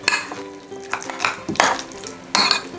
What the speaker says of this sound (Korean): 마지막으로 레몬즙 한 큰술을 넣어서 잘 섞어주겠습니다